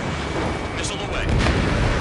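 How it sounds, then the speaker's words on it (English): Missile launch in the video game Ace Combat 7, a rushing roar over loud jet-engine noise that swells toward the end, with no talking. "Missile away."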